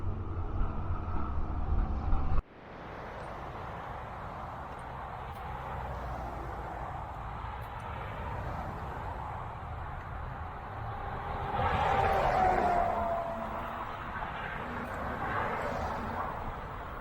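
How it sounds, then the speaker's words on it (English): Steady, distant roar of highway traffic on Interstate 70, heard from a rail trail in western Maryland; a continuous low broadband wash that swells slightly partway through, with no talking. "That noise you hear in the background is the traffic out on Interstate 70."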